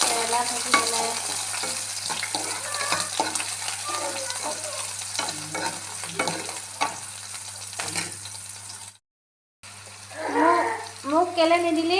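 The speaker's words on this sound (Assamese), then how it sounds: "কেৰেলা ভাজি বনাই আছোঁ।" Bitter gourd fries in a pan with steady sizzling and repeated scraping stirs of a spatula, with bits of background voice; a short gap follows, then a voice over running water.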